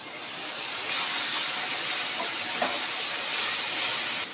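Ginger-garlic paste hits browned onions and turmeric in a hot pan for an egg curry, giving a loud, steady, broad hiss of sizzling that holds for several seconds with no talking.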